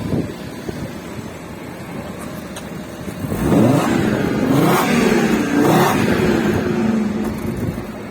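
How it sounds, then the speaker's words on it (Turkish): A Fiat Tipo 2.4 20V engine idles roughly, then revs up hard near the exhaust, roaring loudly with a couple of rising and falling throttle blips. "Ben egzoza gideyim sen gaza bas. Kükrüyor resmen."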